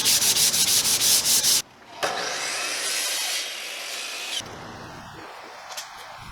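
Sandpaper rubbing over a small wooden panel gauge part in a woodworking shop, starting with a rapid run of short rhythmic strokes, then longer steady scrubbing passes up close, fading to lighter intermittent rubs.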